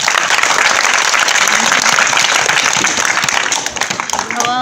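An audience at a school event applauds a speaker named Lizzie, with dense steady clapping that begins to thin out toward the end, loud and close.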